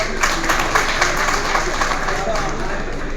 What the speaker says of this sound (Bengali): সো আমি আমার ব্র্যান্ডের জন্য একটা তালি চাচ্ছি আপনাদের সবার কাছে